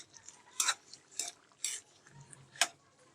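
Spoon scraping and clinking against a pan while ghugni with potatoes and green chillies is stirred, a few sharp metallic clinks spaced irregularly over a quiet background.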